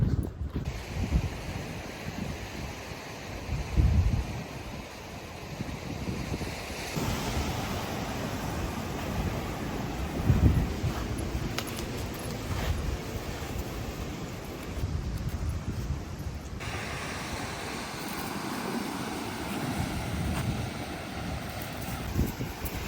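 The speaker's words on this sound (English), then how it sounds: "then just enjoy the sound of the ocean" Ocean waves washing onto a rugged northern California beach with tidal pools, a continuous broad surf roar mixed with heavy wind buffeting the microphone, steady and fairly loud throughout.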